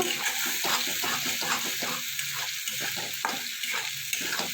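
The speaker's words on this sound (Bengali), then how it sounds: "মশলাটা ভালো করে কষিয়ে নেব" Spice paste fries in a pan, with a continuous sizzle and rhythmic stirring strokes scraping roughly every half second, heard up close.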